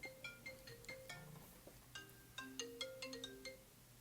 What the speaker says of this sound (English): just my phone rang